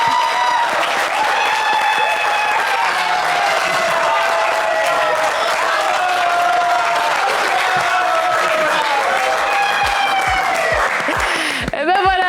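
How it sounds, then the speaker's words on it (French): A studio audience on the French quiz show Le Coffre Magic applauds loudly and continuously, with voices and tonal sounds mixed into the steady clapping until a brief drop near the end. "il a eu sa dose d'applaudissements, Georges"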